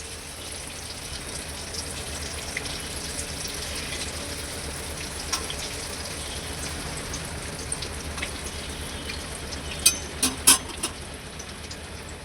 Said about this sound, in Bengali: মিডিয়াম আছে কিন্তু গজাগুলোকে ভেজে নিচ্ছিলাম